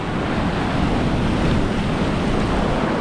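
Big sea waves crash and surge around a fishing boat in stormy open water, a steady, loud wash of surf with wind noise buffeting the microphone throughout.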